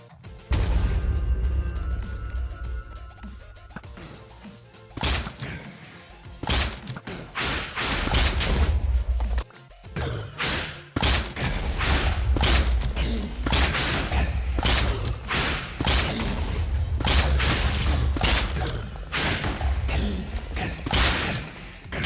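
Repeated heavy explosions and thuds during a wither skeleton fight in the Minecraft video game, loud, dense blasts in clustered bursts after a quieter opening, with crashing debris sounds between them.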